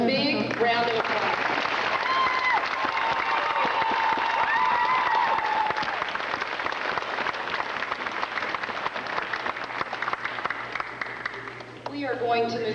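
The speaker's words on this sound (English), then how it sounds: "Let's give them a big round of applause." A graduation ceremony audience breaks into sustained applause, a dense wash of clapping filling the hall steadily for about twelve seconds, with crowd murmur and a voice beneath it near the start and end.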